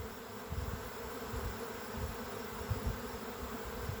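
A honey bee swarm outdoors, a dense continuous buzzing drone of many bees, loud and close with slight swells as individuals pass nearby.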